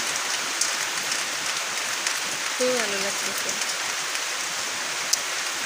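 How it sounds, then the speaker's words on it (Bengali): Steady rain hisses on surfaces all around, with a few louder drips, while a person briefly speaks under it. "ভাবলাম বৃষ্টি হইতেছে আপনাদের সাথে শেয়ার করি"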